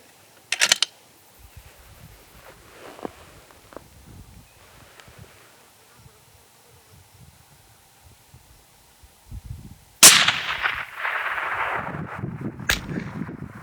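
Rifle fired at a long-range target about a mile away: a sharp crack early on, then a louder blast later followed by a wash of rushing noise, with quiet outdoor rustle in between.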